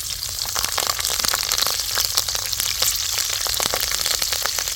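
A handful of curry leaves and 4-5 green chillies fry in about 200 ml of hot oil, a loud, steady crackling sizzle with dense sputtering pops throughout.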